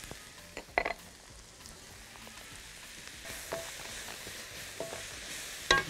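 Onion frying in a pan for pizza hawawshi, a faint steady sizzle with occasional soft stirring scrapes and clicks, heard up close in a quiet kitchen.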